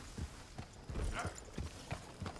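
Horse hooves clip-clopping at a walking pace in Red Dead Redemption 2, a steady, soft rhythm of distinct footfalls.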